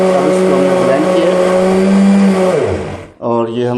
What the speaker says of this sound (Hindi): अब हमने इनको ब्लेंडर में डाल के ब्लेंड करना है।